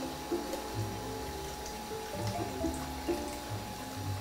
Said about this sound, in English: so you wanna dump the water first